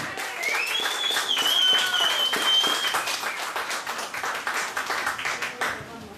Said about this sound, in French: on va l'applaudir encore une autre fois, là, Monsieur Antoine Montmorry